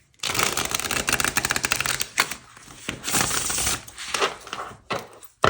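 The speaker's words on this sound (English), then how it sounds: "One more shuffle." Tarot cards are shuffled by hand, giving rapid riffling bursts with short pauses between them, close and alone.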